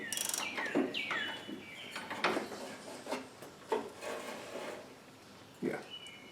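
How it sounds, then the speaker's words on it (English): Wrench loosening a bolt on an MTD Yard Machine mower during drive belt replacement, close scraping and ratcheting clicks with metallic squeaks, in irregular bursts with a few knocks between. "just loosening that bolt up so we don't lose the nut and everything"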